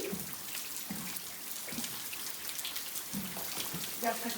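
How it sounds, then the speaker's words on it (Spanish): Heavy rain pours down outdoors on a stormy day near a horse, a steady close patter of drops with occasional louder splashes, and faint voices in the background. "sigue diluviando"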